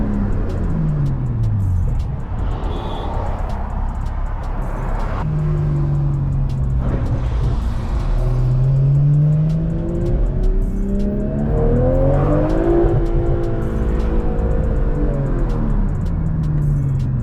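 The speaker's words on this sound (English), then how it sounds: "I hit the red line on that." A BMW M340i xDrive accelerates hard through second gear to its redline, the engine note climbing steadily in pitch with loud, continuous revving, then dropping briefly at a shift before rising again, heard from inside the car.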